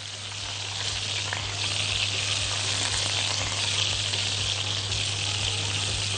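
Steady, continuous sizzling of kofta meatballs frying in hot oil, loud and close, with a constant low hum underneath and no voices.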